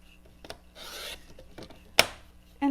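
Bookboard being trimmed for hand book binding, a soft rasping, rubbing scrape in a few short strokes with one sharper burst near the end, close and fairly quiet with no talking.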